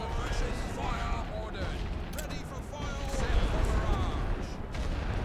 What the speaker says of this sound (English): They do have a machine gun over here.